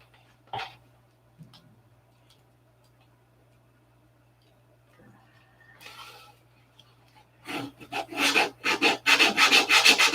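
Superfill wood filler is sanded by hand. After scattered soft scrapes and quiet pauses comes a run of quick, rhythmic rasping strokes that grow louder and closer.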